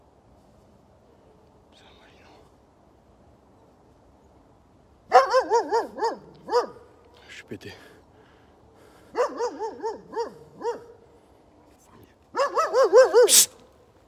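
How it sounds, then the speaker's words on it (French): Dogs bark in three bursts of rapid, fairly close barks, with a few single yips between them, and a person whispers briefly in the quiet gaps. "En plus j'entends des chiens, on sait pas vraiment d'où ils viennent"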